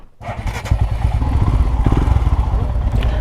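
Adventure motorcycles at the Kakkabe campsite rumble and rev close by, a loud, steady engine throb with some clatter as they set off for off-road riding.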